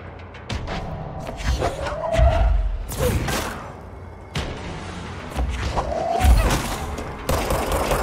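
Video game gunfire in Control comes as repeated loud, sharp bursts of shots with heavy thuds and booming impacts, plus brief whooshing in between.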